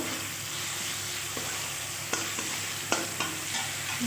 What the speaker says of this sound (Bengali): দিয়ে ভালো করে মশলাটা কষিয়ে নিতে হবে।